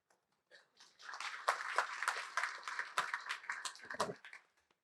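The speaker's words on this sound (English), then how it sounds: "Don't clap yet." Audience applause for a speaker at a conference on inclusive decision making, a burst of many hands clapping that swells quickly, holds steady for a few seconds, then thins out and fades.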